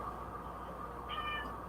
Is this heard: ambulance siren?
no